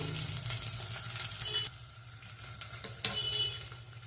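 Chopped onions and green chilies fry on medium flame in a pan for upma with broad avarekalu beans, a steady sizzle with occasional stirring scrapes and one sharper clink.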